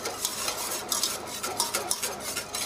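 Steady scraping and swishing of a utensil stirring pastry cream in a saucepan, with small clinks against the pan, continuous and close.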